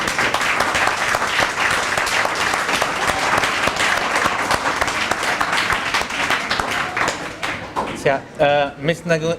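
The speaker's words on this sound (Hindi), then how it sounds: "ज़ोरदार तालियां" Loud, sustained applause fills a hall at an O-Level farewell for the 2023 batch, many hands clapping in a dense roar for about seven seconds before it fades and a voice begins speaking.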